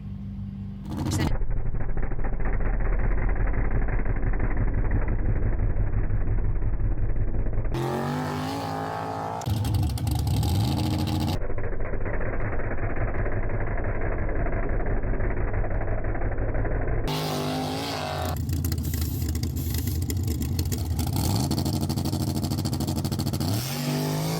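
Chevy drag car with nitrous roaring at full throttle in long, loud bursts separated by brief breaks, a harsh engine blare that cuts in and out with lower idle-like stretches between runs.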